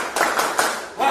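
Children clap along in a classroom clap chant, a quick run of hand claps over about a second with voices mixed in.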